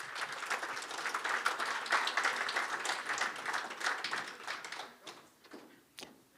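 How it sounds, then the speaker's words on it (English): Audience at a CLDSA AGM and awards evening applauds recipients coming forward, a dense, sustained wash of many hands clapping that thins out and fades to a few scattered claps near the end. "As they come forward, give them a round of applause so long,"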